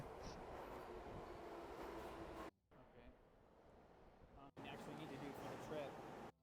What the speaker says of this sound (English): I just wanted to get a picture of the train arriving